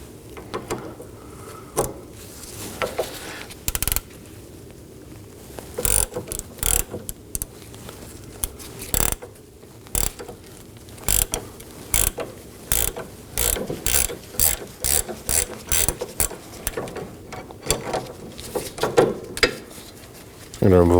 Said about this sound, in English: I'm going to be using a 15mm wrench and a 7mm socket to hold the shaft of the sway bar end link so it doesn't spin.